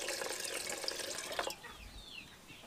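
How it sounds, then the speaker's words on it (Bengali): Water pours steadily into a kadai (wok) set on the stove for steaming, a close, broad splashing rush for about a second and a half that stops abruptly, leaving faint drips and quiet kitchen background. "আর কড়ার মধ্যে দিয়ে দেব জল"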